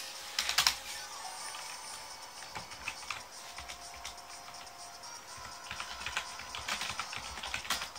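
Fast, irregular tapping of a computer keyboard while notes are typed, quiet and close, with bursts of clustered keystrokes and short pauses between them.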